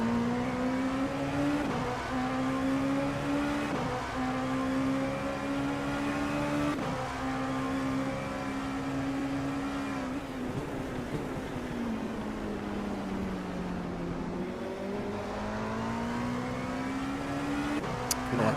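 GT3 and LMP2 race cars in an Assetto Corsa endurance race at Daytona, engine tones droning steadily and shifting pitch through gear changes, loud and continuous with no talk.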